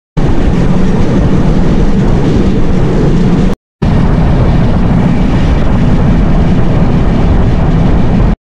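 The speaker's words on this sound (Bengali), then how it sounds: "এটা ছিল হচ্ছে খুলনা থেকে চুয়াডাঙ্গার ট্রেন ভ্রমণ" A passenger train on the Khulna to Chuadanga line rumbles loudly and continuously from inside, a heavy steady clatter and roar with a brief cut partway through, no voices.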